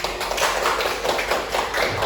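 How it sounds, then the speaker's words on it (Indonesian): A small group of children in an Indonesian classroom claps for a classmate after a patriotic song, a close burst of quick, uneven hand claps. "Tepuk tangan."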